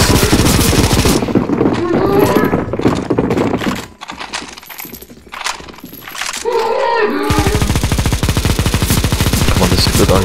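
Loud, rapid automatic gunfire from many players shooting a boss in the CS:GO Zombie Escape mod on a necromanteion map, with dense continuous bursts that thin out into scattered shots midway, then surge back into sustained fire.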